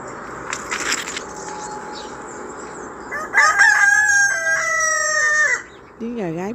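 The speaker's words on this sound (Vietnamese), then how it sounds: "Tiếng gà gáy buổi sáng đó các bạn." A rooster crows in the morning in a home garden in Amstetten, Austria, with a loud, drawn-out cock-a-doodle-doo rising over outdoor ambience, followed by a brief cluck.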